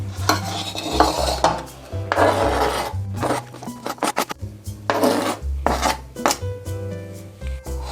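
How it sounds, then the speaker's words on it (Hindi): A knife cuts tomatoes, cucumber and other vegetables for a salad close by, giving irregular sharp chops, taps and scrapes against a board, with a low hum underneath. "तो टमाटर भी हमने काट दिया। सारी वेजिटेबल हमारी कट चुकी है।"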